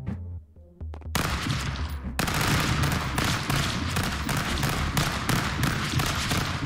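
Video game gunfire in Stick Fight: a few sharp shots open, then a dense, loud stream of rapid automatic fire keeps on to the end with no voices.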